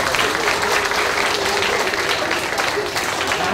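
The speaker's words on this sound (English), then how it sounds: "give yourselves a round of applause" Group of children at an Asian longhorned beetle education program clapping steadily and loudly for several seconds, a dense even patter of many hands.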